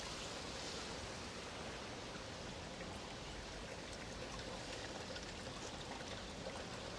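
Small river in a Japanese garden in Tokyo flowing over pebbles between rocks, a steady, close, broadband rush of water that holds even for the whole stretch, with no voices.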